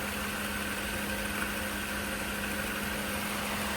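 A 1989 Mercedes-Benz 560SL engine idles steadily after cold start injector trouble, giving a smooth, even low hum with a constant drone and no talk over it.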